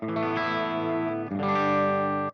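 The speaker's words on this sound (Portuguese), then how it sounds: "Dá pra ver que ele traz a saturação parecida com a da válvula de potência" Electric guitar through an Audio Singularity Tangie amp with the volume maxed, giving a saturated, power-tube-style distortion; two loud sustained chords ring out, the second struck after a brief dip.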